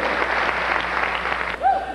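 Audience applause at a 1995 pageant's on-stage interview competition, a short burst of steady clapping that ends with a brief voice or whistle-like tone.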